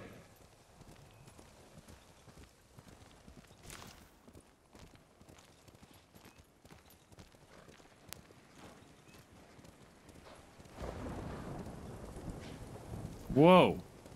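Horse hooves clip-clopping at a steady pace in the video game Ghost of Tsushima, fairly close and moderately quiet, ending in a loud whinny near the end.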